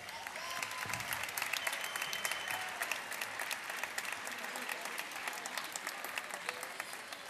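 An audience at the opening ceremony of a sports event applauds, with dense clapping from a large crowd sustained throughout and sharp individual claps standing out, and no talk over it.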